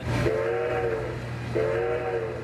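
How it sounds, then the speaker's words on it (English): Two sustained horn honks from a miniature train, each about a second long, with a short gap between, over steady background rumble. "And the honk of a horn."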